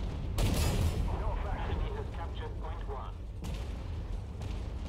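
Tank cannon fire and shell impacts in Armored Warfare, two heavy booming blasts a few seconds apart over rumbling engine noise, with someone speaking between them.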